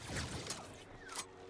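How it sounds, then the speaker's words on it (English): Weapon reload in the video game Star Wars: Hunters, a quick sequence of faint mechanical clicks and metallic creaks with a couple of sharper snaps, heard alone and briefly. "And I finish my reload animation."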